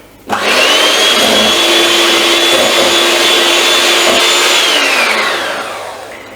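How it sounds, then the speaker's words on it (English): A handheld electric mixer whirs loudly and steadily while whipping vegan icing, its motor whine holding an even pitch before winding down at the end. "now I'm gonna be mixing and fluffing it with my handheld mixer"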